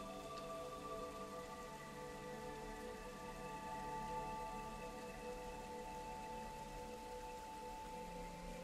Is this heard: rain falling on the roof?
yes